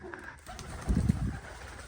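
A pigeon coos nearby, a low throaty burble swelling in the middle against a quiet background.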